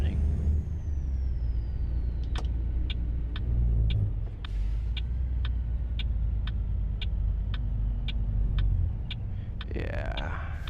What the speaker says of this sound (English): this engine is really throaty sounding